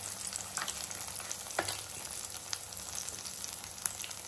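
Lentil vada batter frying in hot oil, a faint, continuous bubbling sizzle with occasional sharper crackles and pops.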